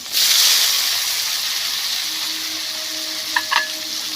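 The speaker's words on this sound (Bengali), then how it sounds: "ভালো করে আমি এটা ভেজে নেব।" Onion, tomato and black cumin seeds hit hot oil in a pan, a loud hissing sizzle that slowly settles, with a couple of brief clinks near the end.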